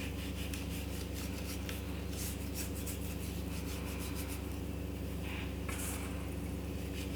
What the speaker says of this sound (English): it just gets onto the meat better when you rub it a little bit